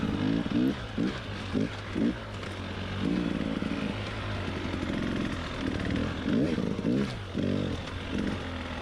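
Enduro dirt bike ridden through wet, loamy high-country woods during a hard enduro race near Donner, with the engine revving in repeated bursts and throttle blips over a continuous drone, close and fairly loud.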